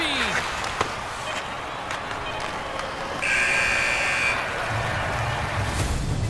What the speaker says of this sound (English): with the buzzer, that puts a bow on the first 20 minutes of play